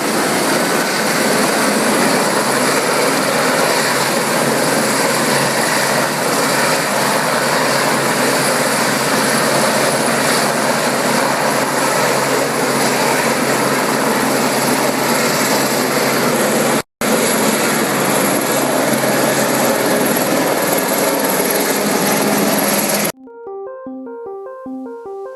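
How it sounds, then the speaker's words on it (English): A forest fire helicopter hovers over a public pool to fill its bucket, its rotor and engine roar loud, steady and close for most of the time, then cutting off abruptly near the end. "Here a forest fire helicopter filling up its bucket from public pool."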